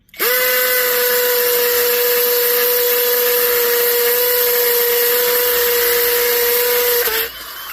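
A DX12 drill with a 1/4 inch bit bores into a concrete block, a loud, close, steady high-pitched whine that runs unbroken for about seven seconds, then stops abruptly.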